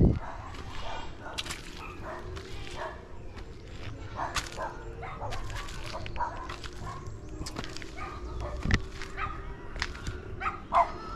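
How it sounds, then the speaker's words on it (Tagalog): Several dogs bark in repeated, irregular bursts over steady background noise, some barks louder and closer than others, with the sound continuing throughout. "Nabol ako ng mga aso."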